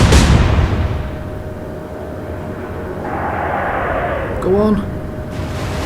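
Naval guns and shell impacts in an Atlantic Fleet battle, Royal Navy against Kriegsmarine: a heavy blast opens over a low rumbling roar, later joined by a falling whistle, with a voice shouting briefly.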